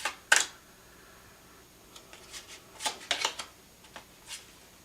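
Tarot cards are shuffled and drawn in quiet, close riffles and soft flicks, with a sharp snap at the start and scattered papery bursts afterward and no talking.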